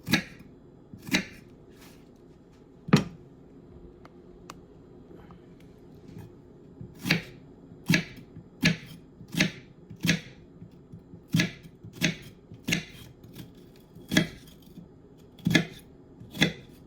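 A knife dices half of a sweet onion on a cutting board in quick, close chopping taps. They come in irregular bursts with short pauses between, over a quiet room with no talking.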